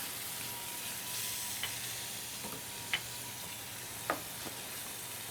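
Sun-dried tomatoes packed in oil sizzling in a pan for an Italian sausage and farfalle dish, a steady hissing fry with a few sharp clicks of stirring, no voices.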